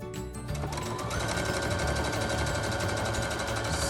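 Overlock sewing machine stitching fabric for ear savers, a fast steady mechanical chatter running continuously at close range after a brief start-up.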